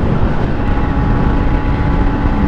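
A Yamaha Sniper 150 motorcycle engine drones continuously while riding, with loud, rumbling low-end roar and wind buffeting, steady and close throughout.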